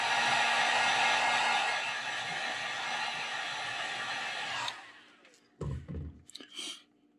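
A heat gun blows steadily on a freshly painted fishing lure, a continuous loud airy roar that cuts off after about five seconds, followed by a few brief knocks and clatters.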